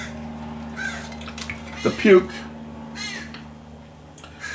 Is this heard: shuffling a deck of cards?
no